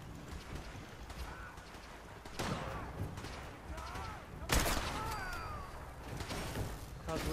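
Gunfire and sniper shots in the video game Fallout 4, with scattered shots and a louder burst midway through, heard under a player's talk.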